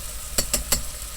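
Three quick scraping strokes of a utensil stirring chicken congee in a metal pot, evenly spaced and close, over a low background hiss.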